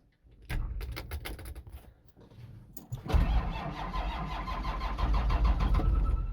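A 12V Cummins diesel swapped into a '63 Ford F250 cranks slowly in freezing cold with a rhythmic starter churn for a few seconds, then catches and settles into a loud, rough, steady clatter.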